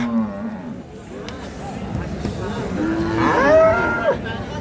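A dairy cow moos in a long, drawn-out low call amid the murmur and bustle of a crowded livestock market, fairly close, with her calf nearby.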